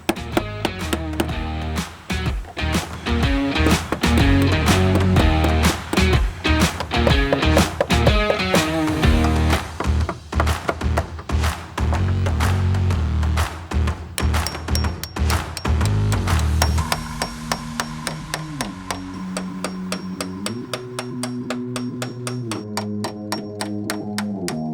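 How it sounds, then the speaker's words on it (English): Old door hinge liners being hammered out of a 2018-on four-door Jeep Wrangler JLU or Gladiator, a long run of sharp, rapid metallic strikes close up, later turning to steadier, lighter repeated tapping with a ringing tone. "So we're going to have to pound the old ones out and put the new ones in."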